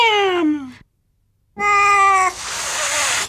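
Cats meow loudly and close by in two drawn-out cries separated by a brief silence, the second cry harsher and more strained, like a quarrelling caterwaul.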